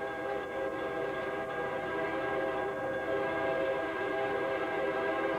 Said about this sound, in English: waiting on this auto train.